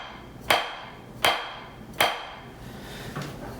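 Three sharp drumstick strokes using matched grip land at an even pace, each a crisp close attack with a short ringing decay, followed by a softer fourth tap.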